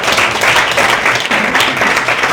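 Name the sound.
audience applauding to welcome a speaker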